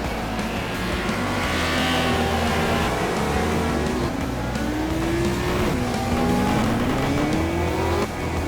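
Super Touring race cars of the 1995 Australian Super Touring Championship at the Gold Coast Indy street circuit jostle through the first chicane, engines loud and constant, rising and falling through gear changes and overlapping as several cars pass close together.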